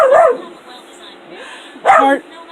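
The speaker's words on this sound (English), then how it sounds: "pardon the dog" A dog barks twice, loud and close, with a pause between the two sharp yips and a low room hum underneath.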